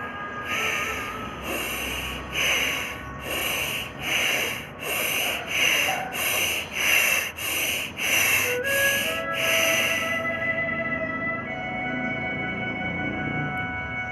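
Rapid, forceful yogic breathing pumps in a steady rhythm, a dozen or so sharp hissing exhalations close by, then fading into quieter background.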